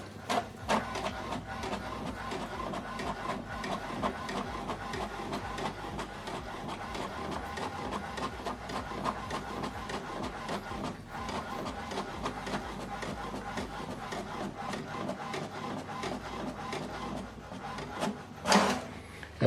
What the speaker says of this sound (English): So this is how to print document from computer to this printer.